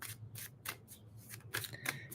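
Tarot cards being shuffled by hand, a series of soft, quick papery riffles and slaps in an uneven rhythm, faint and close with no talking.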